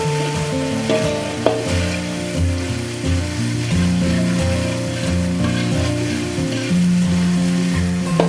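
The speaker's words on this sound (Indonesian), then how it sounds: "Kemudian kita aduk atau kita tumis sampai mengeluarkan bau harum." Stir-frying aromatics for a rice-vermicelli dish in a pan, with steady sizzling and stirring scrapes running throughout over a low tonal hum, close and fairly loud, no talking.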